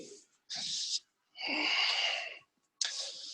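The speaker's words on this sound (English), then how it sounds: "Bandhas and Ujjayi breathing" Ujjayi breathing during an Ashtanga yoga class in a loft at a brewery: three long, hissing breaths with short pauses between, close and steady, with no talking.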